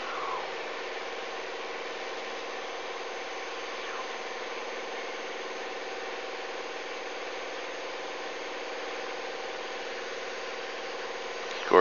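A small aircraft engine holds takeoff power in a continuous, even drone, heard muffled and close from inside the cockpit.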